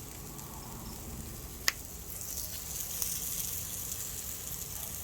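Onions and a burger frying on a hot grill, giving a steady, soft sizzle and hiss throughout with one sharp tick partway through and no talk.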